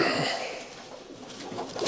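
A racing pigeon in a loft gives a soft, breathy coo, close and faint, with a few rustles toward the end.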